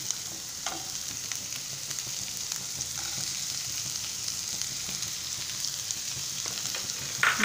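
Beans and carrots stir-frying for restaurant-style chicken fried rice give a steady, close sizzle and hiss that runs unbroken throughout, with faint scrapes of stirring and no voices.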